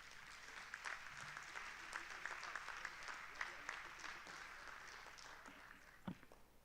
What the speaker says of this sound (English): Another round of applause to our Deputy Chairperson, Honorable Tau.